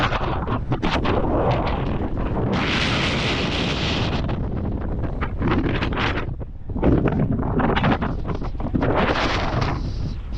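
Strong sea wind buffets the microphone while walking across Pamban Bridge, roaring in heavy gusts that rise and ease over the whole stretch.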